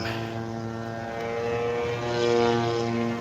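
A Bushmaster propeller airplane takes off with a steady droning engine hum and strong harmonic tones, swelling slightly louder toward the end as it climbs, heard alone without talk.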